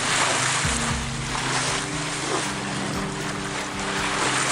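Ocean waves break offshore over underwater rocks and reefs along the Nova Scotia coast: a steady, loud broadband wash of surf and wind, with a low motor hum running underneath throughout.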